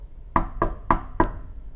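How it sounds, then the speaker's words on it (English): Four quick, firm knocks on a door in a steady rhythm, close and clear with a hollow wooden tone, and no voices. "One day there was a loud knock at the door."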